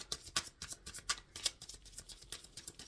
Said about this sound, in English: I was just told to shuffle this deck again